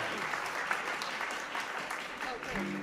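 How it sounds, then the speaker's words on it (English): An audience at a live jazz show applauds a special guest, a steady wash of clapping that fills nearly three seconds at moderate distance. "a big round of applause for our special guest tonight"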